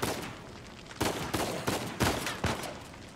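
Gunfire in the video game Uncharted 4 comes as a run of sharp, loud shots in uneven bursts, about six cracks close together over a low rumbling background.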